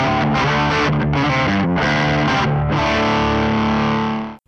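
Electric guitar played through a classic distortion HD amp model on a Line 6 Firehawk or AMPLIFi setup, dialed for a tone: thick, saturated chords change a few times, then one ring out loud and alone.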